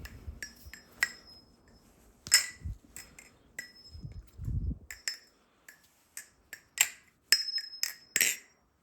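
Balisong knife, a Nabalis model, flipped by hand, giving a string of sharp metallic clicks and clinks in uneven quick bursts, close and fairly quiet, with a few soft handling thumps in between.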